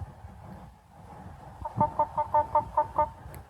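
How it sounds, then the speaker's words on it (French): A hen clucks in a quick rhythmic series of about eight notes, close by and fairly quiet. "Oh, je veux des poules, moi aussi."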